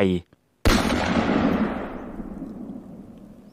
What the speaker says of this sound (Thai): เสียงปืนนัดนั้นดังสะเทือนเลือนลั่น ปลุกป่าเงียบสงัด ให้ตื่นจากหลับไหล